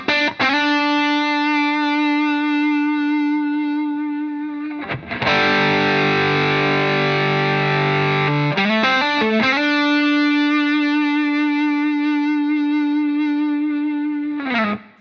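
An electric guitar runs through a Wampler Ego 76 compressor pedal, with sustained notes and chords ringing out evenly, a brief heavier strummed section in the middle, then long held tones with a slight warble, no talking.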